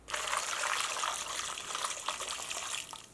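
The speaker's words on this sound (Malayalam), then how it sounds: "വെള്ളം ഇതിലേക്ക് ഒഴിക്കട്ടെ" Boiling water poured from above onto dry soya chunks in a bowl, a steady close splashing gush that lasts the whole moment and tapers slightly toward the end.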